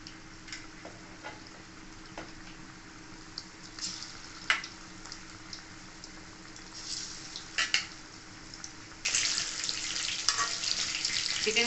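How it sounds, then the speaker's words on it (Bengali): Chicken pieces fry in oil over a low to medium flame for chilli chicken, a steady hiss of sizzling with occasional clinks and stirring that swells louder toward the end. "আমি ভেজে নেবো চিকেনটা।"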